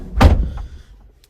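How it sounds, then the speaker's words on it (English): A 2016 Vauxhall Vivaro Bi Turbo Sportive crew van door shuts with a single loud, close thud, followed by a brief rattle and a fading settle. "Let me shut myself in."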